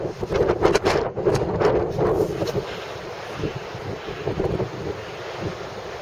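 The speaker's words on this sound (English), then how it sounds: "It's a wee bit breezy up at the Kitchener Monument." Strong wind buffets the microphone on the exposed clifftop at the Kitchener Monument in the Orkney Islands, loud gusty roaring bursts that ease slightly toward the end, with no speech.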